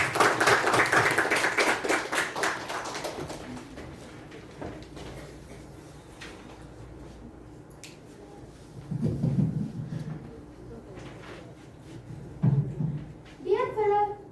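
An audience at a youth leadership program gives a round of applause that starts loud and fades out over a few seconds, followed by scattered taps, a short spoken phrase and soft room noise.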